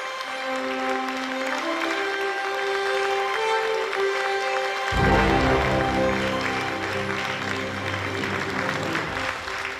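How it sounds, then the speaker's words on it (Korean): Applause from a university inauguration ceremony welcoming DGIST's second president. A broad wash of clapping runs throughout, with sustained musical tones underneath that swell fuller about halfway through. "뜨거운 박수로 모시겠습니다"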